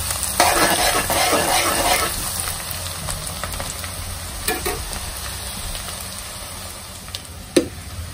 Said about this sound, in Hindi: जब तक प्याज का कलर ब्राउन नहीं होता तब तक इसे हमें फ्राई करना है।